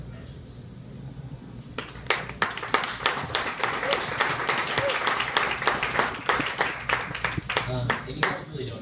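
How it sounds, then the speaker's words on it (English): Scattered audience applause after a poem is read aloud, many hands clapping in a steady, busy patter that swells and carries on for several seconds at moderate loudness. "you guys really don't need to clap after"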